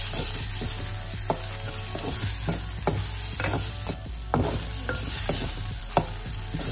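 Chopped onion hitting hot oil with cumin seeds crackles in a steady sizzle, punctuated by sharp clicks and scrapes of a spoon stirring in the pan over a low humming background.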